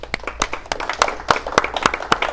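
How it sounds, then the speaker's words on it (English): A small group at a strategic plan presentation claps for a few seconds, sharp individual claps in an uneven rhythm, close and fairly sparse. "we want to give you a round of applause and thank you"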